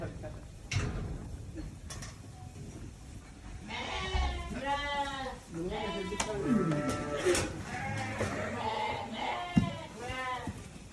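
A flock of Merinolandschaf sheep and lambs bleat repeatedly, several overlapping calls near and far, with some rustling and clatter between them.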